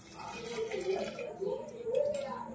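Water is poured onto soaked chickpeas in a pot for boiling, a soft, faint splashing and trickling that rises and falls over a couple of seconds, with a quiet voice-like tone mixed in.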